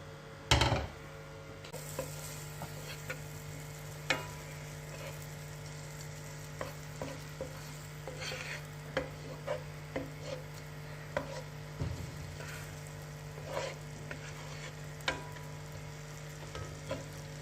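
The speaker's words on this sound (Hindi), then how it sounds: "इसमें डालेंगे अदरक लहसुन सबसे पहले मक्खन के बाद।" Ginger and garlic fry in butter with a soft, steady sizzle, broken by scattered light clicks and scrapes of stirring that come and go over a faint background hum.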